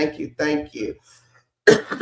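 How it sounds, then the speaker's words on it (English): A person talks briefly, pauses, then gives a single short cough or throat clear nearby. "And I may be coughing."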